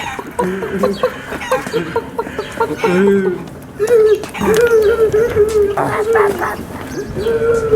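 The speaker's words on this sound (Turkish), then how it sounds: "Horoz dövüştürüyorlar." Roosters squawk and cluck agitatedly amid scuffling during a cockfight, with a dog barking and people talking nearby in a noisy outdoor scene.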